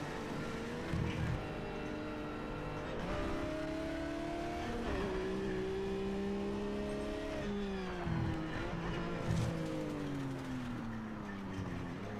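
A Project Cars 3 race car slides off the track, its engine droning steadily with tones that rise and fall while tires squeal and scrub on the surface, all at moderate level with no talk.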